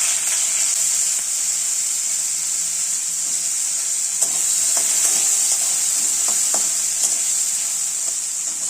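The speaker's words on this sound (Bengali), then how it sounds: "আবার কিছুটা তেল দিয়ে এবারে আলু আর শিমটা ভেজে নেব।" Potatoes and flat beans sizzling in hot oil in a home kitchen pan, a steady bright hiss with occasional stirring clinks and scrapes partway through, close and continuous.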